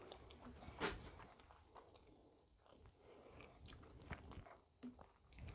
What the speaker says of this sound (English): You have to excuse the sound of me chewing.